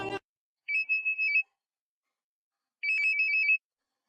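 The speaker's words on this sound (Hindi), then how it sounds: "सौभाग्य से तभी उस आदमी का मोबाइल बज उठा और उसने फोन निकाल लिया" A mobile phone ringtone trills in two short electronic bursts separated by silence, clear and close, in a scene from a Korean drama.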